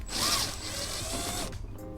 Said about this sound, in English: By using a 10mm socket, we're going to start with the one at the bottom.